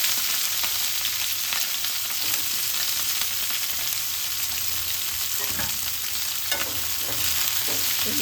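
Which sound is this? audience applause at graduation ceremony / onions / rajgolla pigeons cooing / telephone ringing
onions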